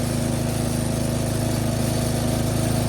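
A Craftsman 13.5 HP rear engine riding mower with a single cylinder Briggs & Stratton engine and a 30-inch cutting deck runs close by, a loud steady pulsing drone with a rapid even rhythm and no talk.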